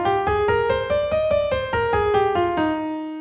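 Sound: major scale played on an instrument

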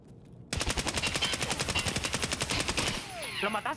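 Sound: gunfire in the video game Escape from Tarkov

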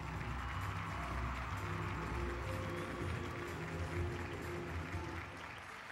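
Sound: audience cheering in video game No More Heroes

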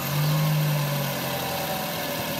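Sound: Nissan Note 1.6 HR16DE engine starting

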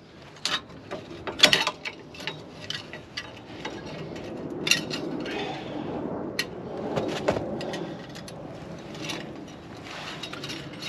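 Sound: Range Rover Sport L320 electric parking brake actuator running

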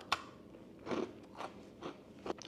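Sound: biting into a crunchy South African rusk

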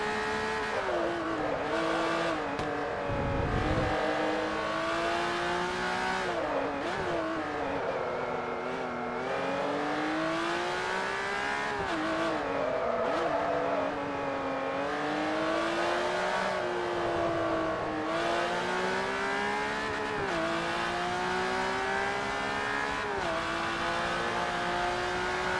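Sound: race car engine on track in video game Forza Motorsport 3

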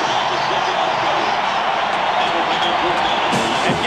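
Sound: football stadium crowd at Nebraska

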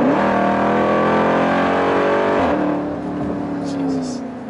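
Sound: Jeep Trackhawk SUV engine accelerating

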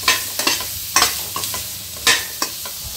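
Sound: onions cooking in a pan with masala

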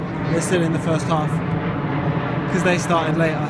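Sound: airplane flying overhead

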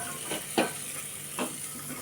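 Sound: spinach added to potato in pan, stirring

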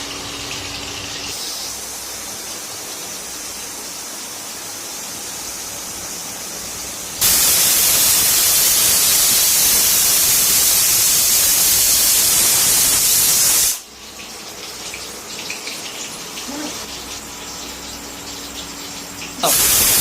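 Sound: pressure cooker whistles while cooking daliya khichuri

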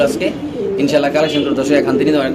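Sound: satin pigeons cooing

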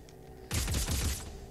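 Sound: burst-fire weapon shooting in the video game Dead Space 3

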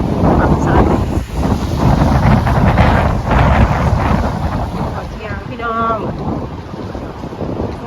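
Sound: strong wind blowing

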